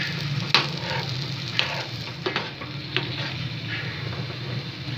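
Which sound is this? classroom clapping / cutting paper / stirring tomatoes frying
stirring tomatoes frying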